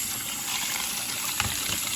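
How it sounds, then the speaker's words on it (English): Cold tap water runs steadily over boiled eggs in a pot, a continuous splashing gush with a slight bubbling swell partway through, close and alone. "So I'm gonna pour this warm water off and run cold water back on it again until it stays cold."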